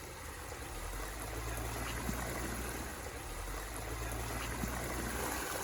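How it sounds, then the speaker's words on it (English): Steady rushing and trickling of falling water from a backyard waterfall, a continuous soft splash with no voices. "we've got a waterfall."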